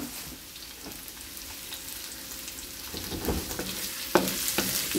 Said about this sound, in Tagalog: Igisa lang po natin.